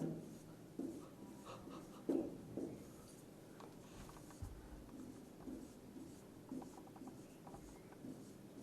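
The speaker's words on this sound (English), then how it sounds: "So first I am writing the example." Pen or marker writing out a matrix example on paper or board, soft scratchy strokes in short bursts with pauses, quiet and close, no talking.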